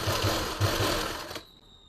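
A sewing machine runs in a quick burst of rapid stitching as a sleeve is sewn onto a kameez at the armhole, the whir close and steady before it stops abruptly.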